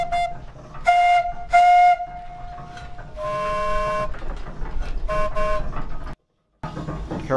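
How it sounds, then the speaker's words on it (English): A wood-fired steam donkey engine sounds a series of whistles, steady harmonic tones starting and stopping, some short and some held for several seconds, loud and close, with one brief gap of silence near the end. "It carries a variety of whistles on it, but back in the day really it only had one whistle for purposes of communication within the forest."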